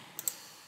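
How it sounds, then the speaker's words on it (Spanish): A computer mouse gives a quick double click, two sharp faint clicks close together, then a third click a moment later in a quiet room. "le damos clic derecho aquí, le damos 2 clics aquí"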